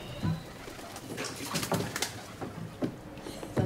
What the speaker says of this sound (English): There are some channels you have a lot of birds singing.